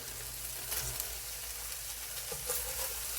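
Ground beef browning on a flat griddle, making a quiet, steady sizzle with faint crackles and light scraping throughout.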